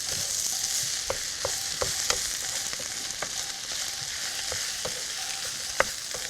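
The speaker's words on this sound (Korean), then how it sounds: "표고버섯과 죽순, 미나리를 넣고 죽순볶음을 하고 있습니다" Bamboo shoots stir-frying in a hot pan with shiitake mushrooms and water parsley: a steady, dense sizzle throughout, punctuated by scattered light clicks and scrapes of a utensil, close and without voices.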